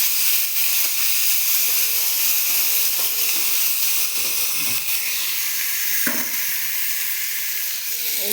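Onion and chopped potato frying in a pan for Bengali kanta chorchori, a steady close sizzle and hiss running throughout, with a few soft clinks of stirring and no talk.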